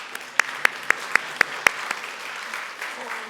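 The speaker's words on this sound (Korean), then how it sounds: "아니 소리를 내랬더니 박수를 치시네요." A church congregation claps during a Sunday service, a short run of about six sharp, evenly spaced claps over a softer wash of scattered clapping that quickly fades.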